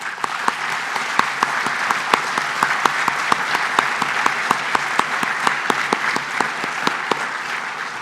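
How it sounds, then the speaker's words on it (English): An audience at an association's opening address claps steadily for board members, a continuous wash of applause with sharp individual claps standing out close by. "would you please stand and be recognized with a round of applause"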